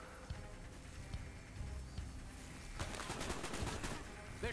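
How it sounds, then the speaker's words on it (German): Gunfire in Call of Duty Black Ops comes as rapid bursts of shots, quiet at first and then heavier and denser toward the end, with a player's voice occasionally heard over it. "kommt ja schon schießen um die Ecke"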